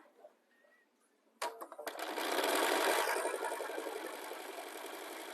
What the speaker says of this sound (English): So let me stitch that real fast.